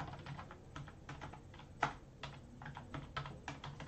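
Computer keyboard keys clatter in quick, uneven bursts as a Photoshop brush preset name is typed in. The clicks are close and moderately quiet, with one sharper keystroke standing out midway and no voices.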